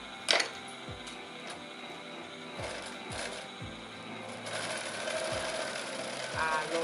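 A sewing machine stitches a seam at a 2 cm allowance in a sewing class, a steady mechanical whir with periodic clacking and faint room noise, growing a bit louder toward the end.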